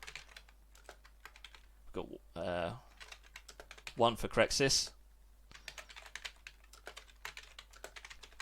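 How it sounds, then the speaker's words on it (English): Rapid computer keyboard typing clatters close by in dense bursts while someone speaks briefly over it during a video game show match. "Sorry if you can hear my keyboard."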